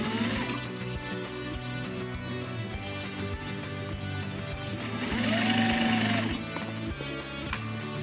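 A flatbed sewing machine stitching through the top stitching of a two-zip hip bag, a fast steady needle chatter close by, quiet and continuous with a brief swell in the middle.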